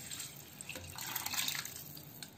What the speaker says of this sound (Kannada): ಇದನ್ನು ನೀರನ್ನ ಸೋಸ್ಕೋಬೇಕು. ಇವಾಗ ನೋಡಿ, ಇದನ್ನ ಸ್ಟ್ರೈನ್ ಮಾಡ್ಕೊಳ್ತಾ ಇದ್ದೀವಿ